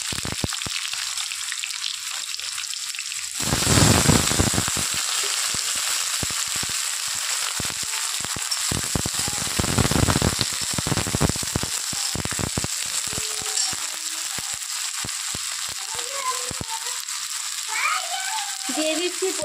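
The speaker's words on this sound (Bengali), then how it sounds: "তো তেলটা গরম হয়ে গেছে, দিয়ে দিচ্ছি কালো জিরে ফোড়নে। আর এখন আমি এর মধ্যে দিয়ে দিব কেটে রাখা বেগুন।" Sliced eggplant hits hot oil tempered with nigella seeds and sizzles steadily up close, with louder crackling bursts as pieces go in and are stirred, while someone speaks over the cooking.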